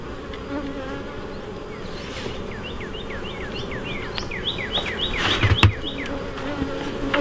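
Honey bees from a weak hive buzz close by during an inspection, a constant insect drone with individual bees whining past, plus a few soft knocks from handling.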